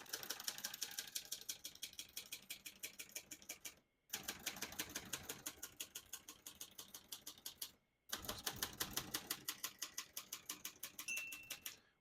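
Rapid typing on a 1968 Hermes 3000 portable typewriter, close crisp key strikes in steady bursts broken by two short pauses, with the bell ringing near the end.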